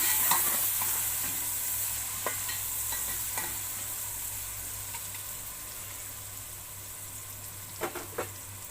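Bitter gourd with green chilies and tomato is stirred in a pan, giving a soft continuous sizzle with occasional spatula scrapes and clicks, fairly quiet and without talk.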